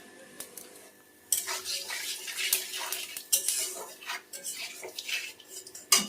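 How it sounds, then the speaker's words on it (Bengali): Cumin seeds tempering in hot oil left from frying pointed gourd, a close sizzle that bursts in after a quiet second and crackles on with scrapes and clinks of a utensil against the pan. "পটল ভেজে তুলে নিয়েছি, এবার জিরে ফোড়ন দিচ্ছি।"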